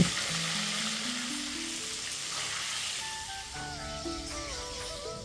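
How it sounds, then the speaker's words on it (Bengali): Potatoes shallow frying in mustard oil with salt, a loud, steady close sizzle and crackle throughout, with some tonal clinks and scraping in the pan toward the end. "দিয়ে আমি আলুটাকে ভালো করে শ্যালো ফ্রাই করে ভেজে নেব"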